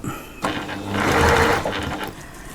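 A sewing machine stitches a purse in one close, steady run of rapid needle strokes that swells in the middle and then slows to a stop.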